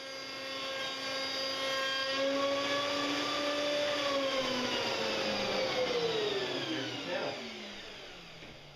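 A Festool CMS router table cuts a cherry cabinet door panel, the motor whining steadily at high pitch for several seconds and dipping in pitch as the wood feeds through, then winding down, loud and close with no talk.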